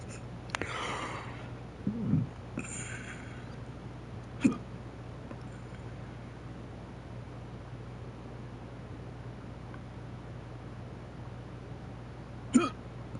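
A few scattered hiccups from a person in a game scene, short sharp bursts spaced seconds apart over a low steady hum, fairly near but not loud.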